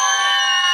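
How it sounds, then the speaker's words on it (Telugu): A crowd at a wedding celebration lets out a loud, sustained unison "O" shout, voices blending into one bright held tone with no clapping. "ఒక్కసారి గట్టిగా ఓ వేసుకోండి. నో క్లాప్స్, ఓన్లీ ఓ."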